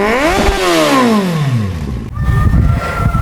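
A 110cc Hero Pleasure XTec scooter engine whines loudly at high revs near 100 km/h, pitch sliding down as it eases off, then climbing again with rattling mechanical noise.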